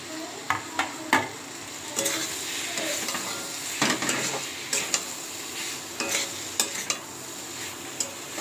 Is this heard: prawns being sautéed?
yes